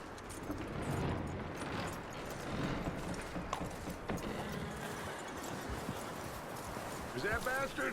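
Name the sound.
horse hooves clip-clopping, from a video game (Red Dead Redemption 2)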